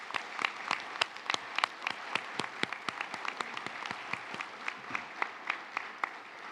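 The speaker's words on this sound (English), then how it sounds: "I want everyone in the audience to join me in giving a round of applause for all of those who helped our graduates on today." A college commencement audience gives a round of applause. Moderately distant crowd clapping runs steadily, with sharp individual claps standing out throughout.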